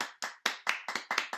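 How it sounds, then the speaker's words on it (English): Hand clapping for a poet at an online open mic, about seven sharp claps in a quick, slightly uneven rhythm, close and fairly quiet with no voices. "And maybe give her a hand, give her a good clap"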